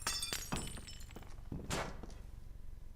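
Window glass breaking in the Estranged video game, with a loud smash followed by a run of tinkling, clattering shards and a second crash about a second later, close and alone.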